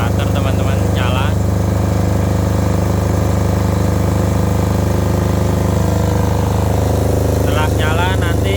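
A Krisbow 5 kVA generator runs loud and close with a steady low engine drone powering a tilapia biofloc pond setup in Berau, Kalimantan, and a person speaks briefly over it.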